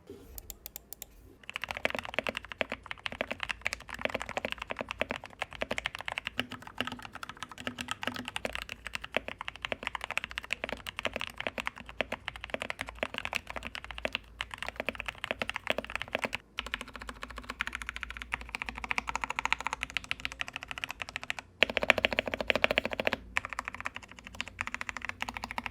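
Continuous rapid typing on an RK G68 mechanical keyboard with foam and masking-tape mods, dense clacky keystrokes at close range with brief pauses, running for most of the stretch.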